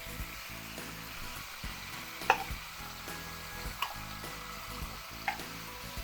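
Giant Asian-style BBQ beef ribs fry in a wok with a steady, close sizzle and crackle, broken by a few sharp pops and clinks of utensils.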